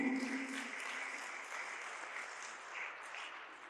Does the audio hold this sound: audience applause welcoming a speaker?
yes